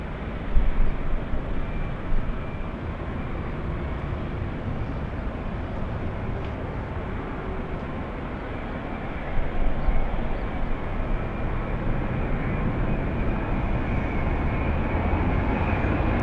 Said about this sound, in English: we'll go for the Dreamliner coming in